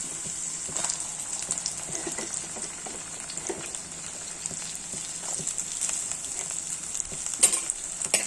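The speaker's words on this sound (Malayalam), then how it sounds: "നമുക്കിനി നമ്മുടെ സവാള അല്ലെങ്കിൽ ചെറിയ ഉള്ളി ഇടാം" Onions or small shallots fry in a pan with a continuous hissing sizzle, steady and close, with faint scattered crackles and an occasional stir, no voices.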